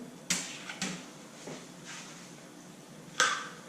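A Penn Spinfisher V spinning reel's bail slams shut with a few sharp metallic clicks and snaps, close and fairly quiet, scattered across a few seconds.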